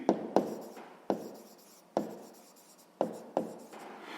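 Pen strokes on paper while working through a sixth-grade maths exercise: five or six short scratchy bursts, each a quick sharp onset that trails off, spaced unevenly, close and fairly quiet, with no talking.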